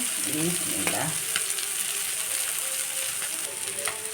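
Small moya fish, seasoned with salt and turmeric, fry in oil in a pan with a loud, continuous close-up sizzle and occasional light clicks of a utensil.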